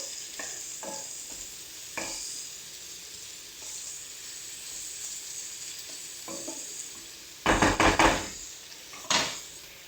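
Vegetables stir-frying in a pan as sauces go in, a continuous hiss with scattered scraping stirs and two loud bursts of sizzling near the end, close up and without speech.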